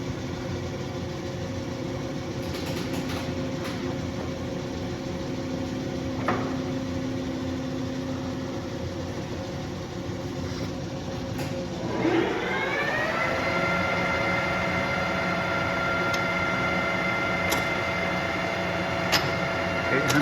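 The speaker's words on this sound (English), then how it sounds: "Shut off the threading and turn on the feed. Going up to 800 RPM." Tarnow TUJ-50M engine lathe running with the feed engaged as its speed rises to 800 RPM, a steady mechanical drone and whine that climbs in pitch partway through and then holds, close and continuous.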